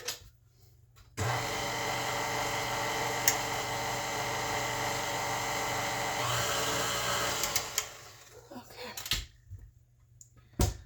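Stand mixer whirring steadily as it mixes bread dough ingredients in a home kitchen, a loud even motor hum running for about five seconds before winding down into clinks and handling noises.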